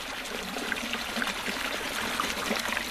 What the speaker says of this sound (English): I'm running a little frog spitter here. That just helps with some oxygenation in the water.